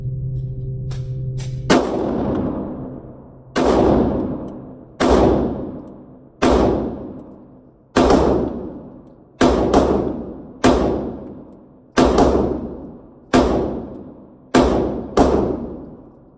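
Sig Sauer P365 pistol fired slowly at 25 yards outdoors, a series of about eleven sharp loud shots spaced one to two seconds apart, each with a decaying echo.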